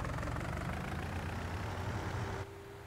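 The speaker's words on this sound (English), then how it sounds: "we will turn the engine on" A tractor engine idles with a steady low rumble in Farming Simulator 19, holding a constant drone before dropping abruptly to a quieter level near the end.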